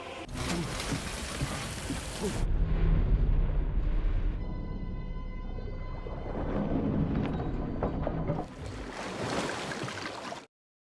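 A bomb blast in the war film Sisu 2 sends a truck into water: a loud booming roar with rumbling debris, then a churning watery wash, swelling again before cutting off abruptly.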